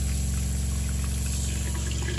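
Water runs steadily from a shower mixer in a camper van under construction, a continuous close pour with a low pump-like hum beneath it and no talking.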